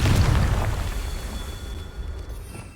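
A fiery spell explosion in the Hogwarts Legacy video game, a loud close boom at the start that decays into a rumbling, crackling tail over a few seconds.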